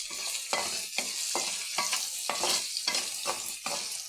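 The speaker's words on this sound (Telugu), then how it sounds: "ఇలా ఉల్లిపాయలు బాగా ఎర్రగా అయ్యే వరకు వేయించుకోవాలి, ఫ్రై చేసుకోవాలి బాగా." Onions fry in a pan, crackling and sizzling under a rhythmic series of about eight stirring scrapes, close and steady with no voices.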